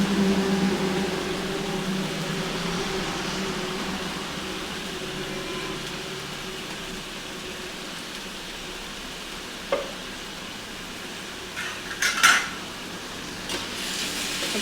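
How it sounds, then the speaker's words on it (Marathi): Onion and tomato frying in hot oil, a soft continuous sizzle that eases over time, broken near the end by a few sharp clinks of a utensil against the pan. "ह्याच्यात घालूया कांदा, भरपूर असा कांदा आणि टोमॅटो"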